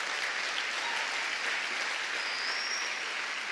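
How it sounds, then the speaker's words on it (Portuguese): A church congregation applauds steadily throughout, a dense, even wash of many hands clapping with no break and no voices above it. "Você pode aplaudir o Senhor por essa palavra?"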